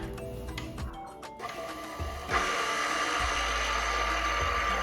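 An electric mixer beats 7UP pound cake batter in a kitchen, a steady whirring motor that starts up and runs continuously after a few brief clicks and clatters.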